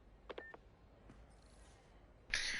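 An incoming phone call in the Spider-Man PS4 video game: a few faint electronic blips, then a bright, sustained ringing tone that rises at the end, quiet overall with no speech.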